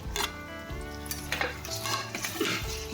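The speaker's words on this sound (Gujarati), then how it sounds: "અને સારી રીતે અંદર તેલમાં મિક્સ કરી દેવાનું છે સાતડવાનું છે" Beans, peas, cauliflower and drumsticks being stirred into hot oil in a pot for Gujarati undhiyu: a spoon clacks and scrapes against metal in uneven strokes over a light sizzle, close by and without voices.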